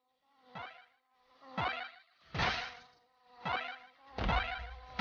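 Bees buzzing in the DuckTales Remastered video game: five separate swelling buzzes, each rising and fading in a steady rhythm, loud and close with no talking.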